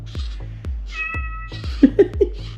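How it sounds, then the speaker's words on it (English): A MetaCat AI robot cat lets out several clear, close meows while being petted, with short soft thumps between them and no talking over the calls. "Oh, look, the cat even looks down at my hands and meows."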